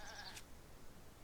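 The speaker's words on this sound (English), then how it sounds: "Hello, goat." A goat in the Zelda: Breath of the Wild video game gives one short, faint bleat at the very start, followed by quiet background.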